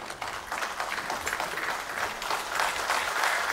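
An audience at a film festival honoring ceremony breaks into steady, dense applause, many hands clapping continuously at moderate volume with no pause.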